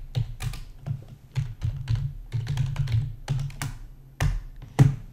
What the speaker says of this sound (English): I'm typing around a microphone